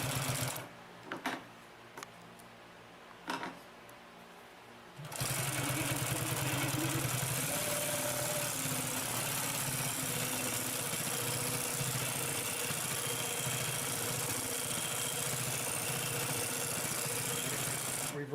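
Consew P2339RB double-needle walking foot upholstery sewing machine stitching through a thick 8-layer seam. A few sparse clunks come first, then a loud, steady motor hum with rapid needle rhythm runs continuously up close.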